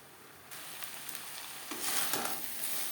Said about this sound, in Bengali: মাছের মাথার সাথে থোড়ারও তিন চার মিনিট রান্না করে নেব